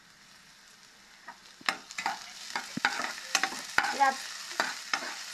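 Chopped onions fried in a pan for a chicken cheese pizza topping, with a soft sizzle and repeated scraping stirs back and forth; one short spoken word.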